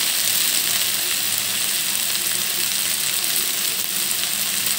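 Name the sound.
mixing salt into frying taro stolons (lata) in a pan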